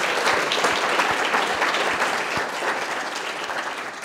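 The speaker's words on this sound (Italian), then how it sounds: "Un applauso anche a voi." Audience applause at a talk in Milan, a full, even wash of clapping from a sizable crowd with a few distinct nearby claps, steady throughout and easing slightly at the close.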